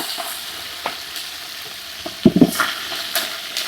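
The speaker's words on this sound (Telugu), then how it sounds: "కలిపి కలిపి కలిపి కలుపు, పప్పు కలుపు." Dal being stirred in a smoking pan, a steady soft sizzle broken by scraping spoon strokes, with a cluster of louder clatters partway through, close and without talk.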